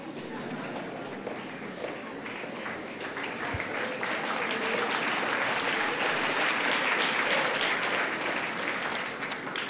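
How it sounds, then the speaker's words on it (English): An audience claps steadily for the singers at a thanksgiving mass, a dense, sustained round of applause that swells slightly toward the end, with murmured voices underneath. "you have actually done us well to clap for them, because singing is not easy"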